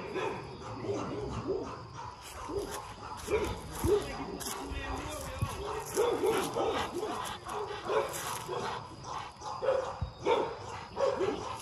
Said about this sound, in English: female Rottweiler